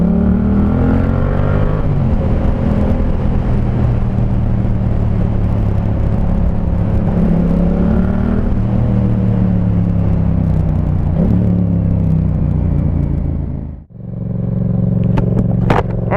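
Yamaha MT-07 motorcycle with an SC Project Conic 2-in-1 exhaust and baffle fitted, roaring loud and steady as the revs climb and hold high, then cutting briefly before picking back up.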